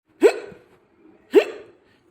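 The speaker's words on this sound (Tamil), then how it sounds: "என்னடா இது விக்கல் வருது வருது" Two sharp hiccups about a second apart, close and fairly loud, each a quick throaty catch with a short fade, nothing else around them.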